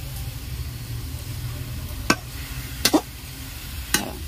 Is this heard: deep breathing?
no